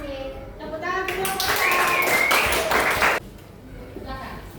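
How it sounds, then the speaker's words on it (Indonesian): A classroom group of students breaks into applause after a presentation, a dense burst of clapping lasting under two seconds amid children's chatter before and after. "Tepuk tangan semua."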